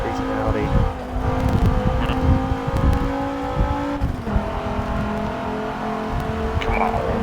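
An Audi race car in a racing video game, engine tones climbing and shifting as it revs and changes gear, loud and continuous with a brief dip midway, while players chat over it.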